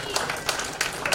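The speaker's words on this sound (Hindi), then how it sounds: "सभी तालियों से" An audience at a Hindi Diwas gathering applauds during an award and honouring ceremony. The clapping is dense and steady, with louder bursts standing out against the hall's background, and lasts about a second.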